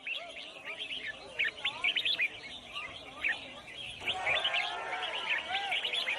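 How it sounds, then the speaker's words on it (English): Exotic birds, illegally captured rainforest species, sing in a crowded Asian marketplace bird singing competition: many overlapping chirps and warbling phrases, fairly close, over a murmur of crowd noise. "people have gathered to sell exotic birds, illegally captured in the rainforest, sold for the highest bid, and here participating in a bird singing competition"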